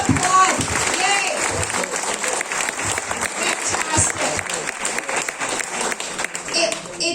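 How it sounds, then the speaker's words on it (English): A crowd at an outdoor rally in Lakeview Park, Oshawa, Ontario breaks into applause, with brisk, overlapping claps and scattered cheers mixed with nearby voices throughout. "We have to applaud."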